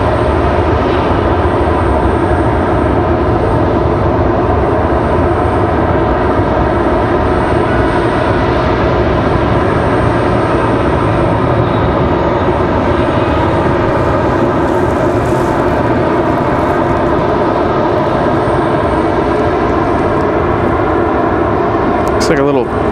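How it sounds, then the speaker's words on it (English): A Pilatus PC-12 turboprop at Raleigh-Durham International runs with a loud, sustained engine drone for over twenty seconds, with a voice talking over it. "Like a little Pilatus PC-12 or PC-24. I think it's a 12."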